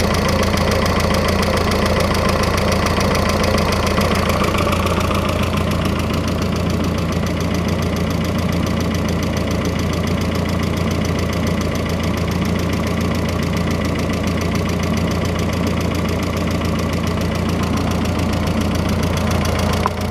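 Rebuilt turbocharged engine idling steadily and fairly quietly, a continuous close low rumble with a faint knocking texture and no talk over it.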